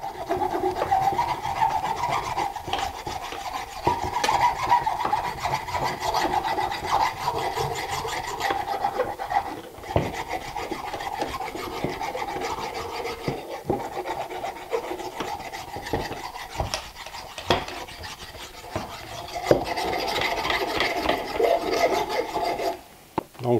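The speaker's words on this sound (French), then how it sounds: "on va utiliser une lime. Ça fonctionne très bien. On peut venir enlever l'excédent." A metal file rasps steadily back and forth, scraping excess glue off a clamp in close, continuous strokes for over twenty seconds, with no one talking.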